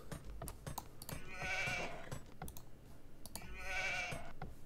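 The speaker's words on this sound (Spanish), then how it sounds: "O sea, unas ovejas." Sheep bleat twice in an Age of Empires-style campaign game, each call a wavering, nasal tone that swells and fades, mixed with rapid clicking of typing or game sounds and busy in-game noise throughout.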